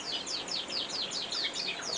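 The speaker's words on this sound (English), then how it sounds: "frill canaries. Yeah, we've got a pair." Frill canaries sing a fast run of repeated high sweeping chirps at an even rhythm, close and clear, with no voices over them.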